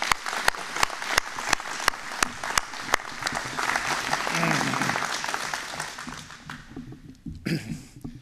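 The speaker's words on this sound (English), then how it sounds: "Let's give this team a very well-deserved round of applause for all their hard work." A round of applause at a company opening ceremony, with sharp individual claps at first building into a fuller burst of clapping from the audience, then thinning out as a voice begins speaking near the end.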